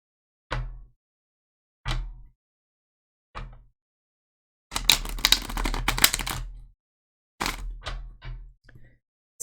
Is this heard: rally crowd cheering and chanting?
no